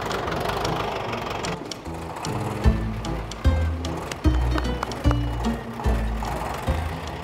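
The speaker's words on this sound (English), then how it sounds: "I am licensed to drive a tractor" Vintage tractor engine running close by with a loud, uneven chugging idle, then heavy periodic knocks thumping roughly every second in the latter half.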